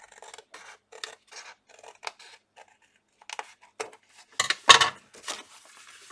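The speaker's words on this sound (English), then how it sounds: "we're going to just trim up a tiny little slither towards the middle" Scissors snip a folded piece of paper for an ephemera folio folder, trimming a thin sliver toward the middle; a run of light, crisp cuts ends in a couple of louder, sharper snips near the finish.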